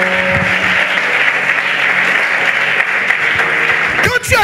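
Church congregation applauding and cheering for the Lord at a worship service, a dense sustained roar of clapping and voices that fills the whole stretch at high volume.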